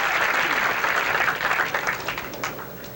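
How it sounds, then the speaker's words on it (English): Crowd applause at a 1982 professional bowling title match, dense steady clapping that starts loud and gradually thins and fades over a few seconds. "Earl can cut the lead down to 10 as the crowd's starting to react"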